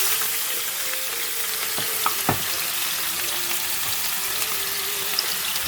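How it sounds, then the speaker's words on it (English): Chopped onion and vegetables frying in hot oil, a dense, steady, loud sizzle with a couple of brief knocks near the middle, constant from start to finish. "the oil is hot enough to fry the vegetables"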